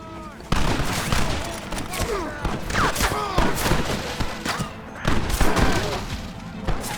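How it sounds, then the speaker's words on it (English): Sustained rapid fire from a Gatling gun in the Western action game Red Dead Redemption, loud and continuous with heavy thumps and scattered battle noise, and voices calling out over the shooting. "Marston, what about the Gatling gun?"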